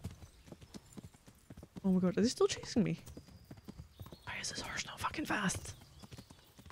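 Horse hooves clip-clopping at a fast pace in the video game Kingdom Come: Deliverance, a steady rhythmic beat running beneath excited talk and bursts of game sound.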